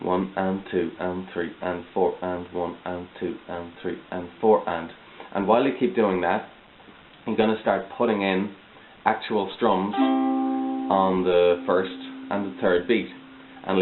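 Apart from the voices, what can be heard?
None of the usual background noises is heard.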